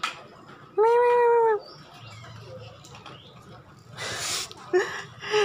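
A cat gives one clear, drawn-out meow close by, followed by quieter shuffling noises and a couple of brief, noisy bursts near the end.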